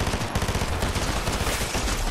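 Rapid automatic gunfire from the video game Fortnite, a dense, continuous burst of shots filling the whole moment, loud and close with no talk over it.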